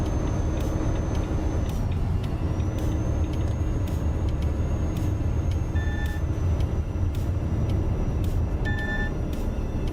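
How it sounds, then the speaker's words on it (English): Wind rushing through an open truck window while driving in Euro Truck Simulator 2, a steady loud broadband roar over low engine rumble, with a few faint high beeps. "So you hear the wind noise now."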